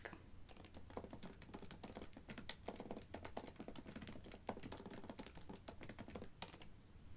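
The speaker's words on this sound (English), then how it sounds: "I'm gonna type something and I will get right back to you" Fast, soft typing on a computer keyboard in a quiet room, a steady patter of close key taps with a few brief pauses and no talk.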